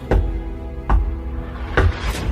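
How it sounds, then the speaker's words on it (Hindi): Three sharp, loud knocks on a door, spaced unevenly about a second apart, close by and alone against a quiet background. "दरवाजे पर बड़ी अजीब सी एक खटखटाने की आवाज हुई।"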